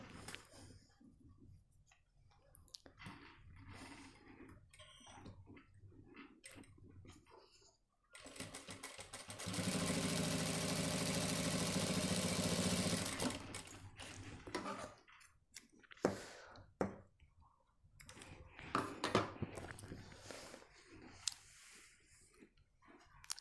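A sewing machine runs a continuous stitch along a shirt cuff, a fast even whirring burst lasting a few seconds. Quieter clicks and handling noises come before and after it.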